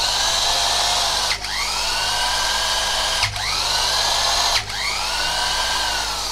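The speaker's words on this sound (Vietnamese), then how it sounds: "Bu lông Makita 1/2, điện áp 100V, 380W" A Makita 1/2-inch impact wrench rated 100V and 380W runs in a loud, steady mechanical whine, broken by three brief dips as the trigger is released and squeezed again, close and with no voices.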